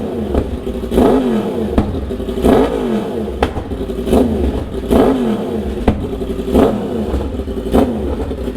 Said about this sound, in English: Yeah, it's a CP4 engine, it rattles.